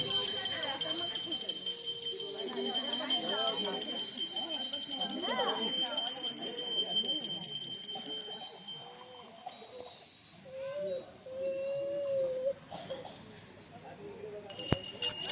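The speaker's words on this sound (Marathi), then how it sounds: "सुंदर वाटतोय ना हा घंटानाद" Bells ringing continuously during the Gauri festival procession in Konkan, a steady bright shimmer of many small bells with voices talking and a faint tone in the background.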